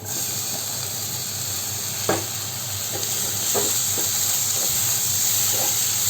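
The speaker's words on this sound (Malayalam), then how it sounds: "തക്കാളിയും ഈ മസാലയുമായിട്ട് നന്നായിട്ട് ഒന്ന് യോജിച്ച് വരുന്നത് വരെ ഇളക്കി കൊടുക്കണം" Ripe chopped tomato and masala sizzling steadily in a pan for a chicken sausage roast, with a few scraping stirs of a spoon at intervals over a constant frying hiss.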